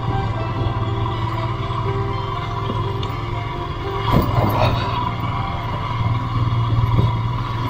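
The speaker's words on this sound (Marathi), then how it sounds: "मला आता गाडीचा व्हायब्रेशनचा आवाज येत असेल" Vehicle vibration and road rumble inside a car driving on a rough high-altitude road in Ladakh, a steady close droning hum with a brief rattling bump midway and no talking.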